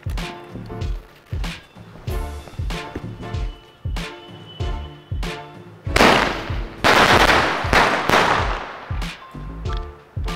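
Sky shot firecrackers set off in daylight during Diwali pop in rapid, loud, close bursts, with a dense crackling volley partway through and scattered sharp bangs before and after.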